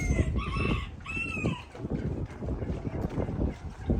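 Chickens on a farm in Michigan, with a rooster crowing twice near the start over steady clucking and rustling, the crowing loud and close with the clucking continuing throughout.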